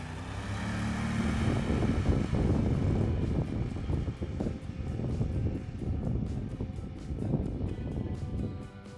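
A Shihan snowmobile with a heavy double track accelerates across wild snow on a top speed run, its engine rising to a loud, sustained roar mixed with wind buffeting, then easing slightly near the end.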